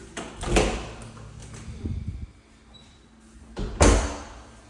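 Closet door in a house being opened, with a couple of sharp knocks and rattles, a brief scraping slide, then another solid bump near the end, heard close in a quiet room.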